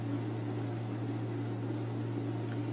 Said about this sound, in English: It's an ultrasonic device that goes into the sink and helps you clean dishes.